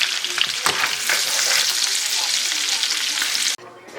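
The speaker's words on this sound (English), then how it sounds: "now we're cooking the shrimps, and they're almost done" Shrimp sizzling and frying in a pan for Cajun jambalaya, a loud steady crackle with stirring scrapes throughout, cutting off abruptly near the end.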